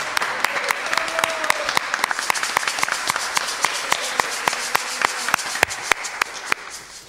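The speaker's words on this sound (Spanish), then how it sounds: "un aplauso para Andy y Joseph" A church congregation at a Sunday service claps for two learners, a dense patter of many hands with sharp individual claps standing out, steady and fairly close for the whole stretch.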